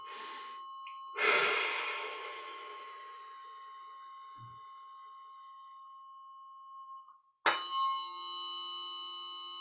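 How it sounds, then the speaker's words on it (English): A tuning fork rings out during a sound healing meditation, struck twice with bright sustained tones that slowly fade; faint breathing is heard in the quiet gaps. "pointing the tuning fork towards your feet into your backbone and having the sound pass to the top of your head"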